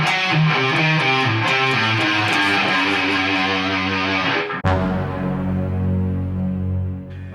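Distorted electric guitar plays a fast diminished lick, a dense run of notes ending in a held, ringing low note, loud and close with no voices.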